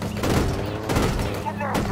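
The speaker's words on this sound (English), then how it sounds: "Taking fire!" Gunfire in a Halo Infinite campaign battle, a dense, steady volley of shots that runs the whole time at close range, with sharper bursts cutting in.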